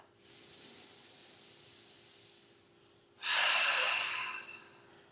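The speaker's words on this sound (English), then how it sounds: "And breathe. Again, reminding yourself of that Ujjayi breath." Two long, slow Ujjayi breaths during a yoga session, each a smooth, hissing, ocean-like rush through a constricted throat, heard close up with a short pause between them and no talking.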